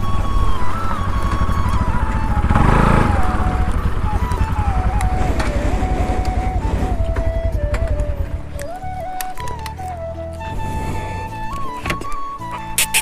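A motorbike engine hums steadily with a wavering tone that drops and settles as the bike slows and comes to a stop, traffic noise and a brief thump around it, near and fairly loud.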